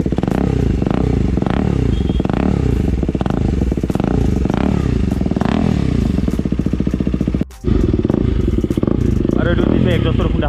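KTM motorcycle fitted with an Akrapovic carbon full-system exhaust, idling and revving up close with a loud, throbbing, crackling exhaust note and one brief cut-out before it picks back up.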